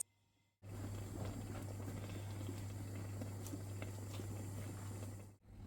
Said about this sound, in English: Now let the stew cook slowly and just look at that.